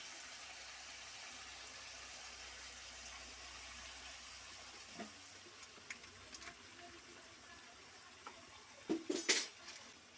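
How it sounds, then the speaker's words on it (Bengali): A large batch of mutton with curd and ginger-garlic paste being stirred in a pot, faint soft sizzling under scattered utensil scrapes and clinks that grow louder near the end, with no voices. "এই যে মেশাচ্ছি, কষিয়ে নিচ্ছি। অনেকটা মাংস তো, একটু নাড়তে অসুবিধা হচ্ছে।"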